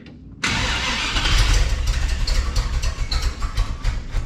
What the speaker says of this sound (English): let's see if we can even get it to run, period